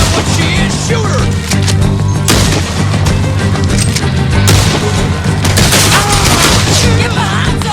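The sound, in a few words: gunshots in video game Red Dead Redemption 2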